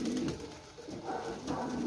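Pigeons cooing close by, a few deep rolling coos rising and falling in slow succession, fairly clear with no talk.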